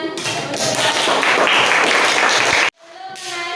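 A burst of dense clapping from a group of children in a classroom, loud and continuous for a couple of seconds, then cutting off abruptly before quieter sounds follow.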